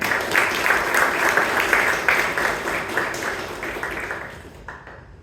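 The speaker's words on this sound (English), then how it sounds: "A big round of applause to Alagamai." A Toastmasters club meeting audience in Bangalore bursts into a dense, full round of applause. The clapping holds steady and close, then thins and fades away near the end.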